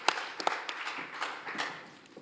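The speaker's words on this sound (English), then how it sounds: "I'll have you give her a round of applause to begin" A small audience at a behavioral health panel meeting gives a quiet, sparse round of applause, with scattered individual claps sounding irregularly before fading out.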